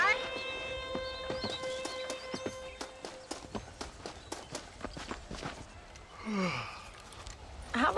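Horse hooves clip-clop in a steady, even rhythm in Red Dead Redemption, close and moderately loud, with a horse snort or whinny near the end.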